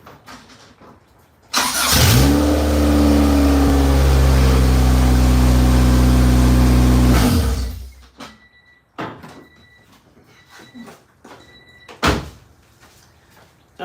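A Honda Civic engine with half its exhaust disconnected cranks and fires, then runs with a loud, raw, uneven roar for about six seconds before shutting off, followed by clicks and quieter shuffling.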